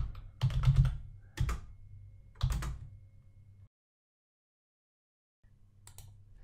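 Keystrokes on a computer keyboard as a slide title is typed into PowerPoint 2016, coming in quick close bursts of clicks separated by pauses, with a low hum underneath and a stretch of near silence.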